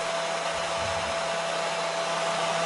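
A hair dryer blows continuously, a loud, steady whooshing roar with a faint hum that stays unchanged from start to end, with no talking over it.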